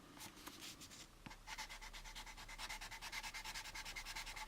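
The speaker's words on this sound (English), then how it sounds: "what I'm doing is I'm just cross sanding right in between the grid lines." Sandpaper cross-sanding the gloss-painted hull of an AMT U.S.S. Enterprise model kit between grid lines, a steady rhythmic scratchy rasp of quick back-and-forth strokes, close and fairly quiet, with no talking.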